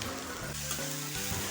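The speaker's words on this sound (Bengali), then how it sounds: "কেটে রাখা বেগুন ও লাউ ডাঁটা একসাথে ভেজে নিচ্ছি" Chopped eggplant and bottle gourd stems fry together in a pan, giving a brief, steady sizzle with a soft, constant hiss.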